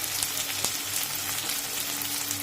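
Chicken and vegetables fry in a pan for soup, giving a steady, close hiss of sizzling oil with a faint clink of stirring partway through.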